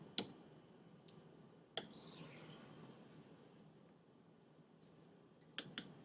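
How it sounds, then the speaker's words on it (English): A few sharp plastic key clicks, isolated taps scattered over a quiet background with gaps between them. "let's try typing this in."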